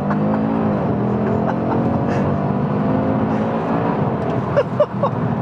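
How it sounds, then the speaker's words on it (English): An Audi RS3 launches hard under launch control, its engine note rising steadily as the car accelerates, with a sustained, fairly loud roar and a few brief knocks near the end, no talking over it. "Foot hard on the brake, mash the throttle, launch control, and off we go."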